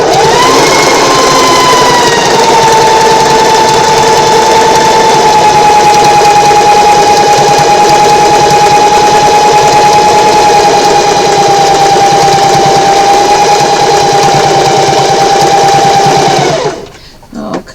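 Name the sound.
sewing machine back stitching a quillow edge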